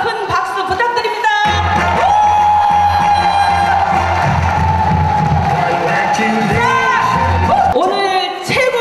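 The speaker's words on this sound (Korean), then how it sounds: "우리 다 함께 함성과 큰 박수 부탁드립니다." A crowd at a singing-class charity and year-end party cheers and applauds loudly. Whoops, shouts and a sustained held tone ride over dense clapping, and it dies down briefly at the end.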